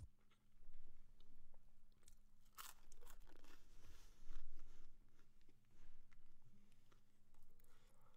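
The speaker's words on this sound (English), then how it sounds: "Just munching on some toast" Toast being munched close to the mic, with repeated crunchy bites and chewing in an uneven rhythm over a low steady hum.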